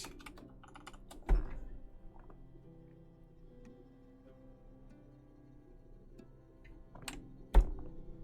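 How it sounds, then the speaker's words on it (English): Keys on a keyboard clicking in soft, scattered taps at close range, with two heavier thumps standing out, one early and one near the end, and no voices. "I can type on this keyboard"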